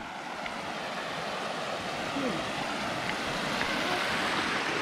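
Mountain waterfall and stream water at the Upper Gartmore Falls near Gawarawila, Maskeliya, Sri Lanka, rush in a constant, dense roar that stays steady from start to finish with no voices.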